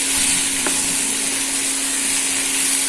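Cauliflower fries on a high flame in a pan and is stirred: a loud, continuous sizzling hiss with a steady hum and one brief scrape.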